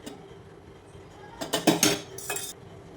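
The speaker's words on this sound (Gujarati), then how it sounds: "ગેસ ચાલુ કરી એક પેન મૂકી દીધું છે" A few metallic clanks and scrapes as a pan is set down and shifted on a gas stove, brief and close against a quiet hum.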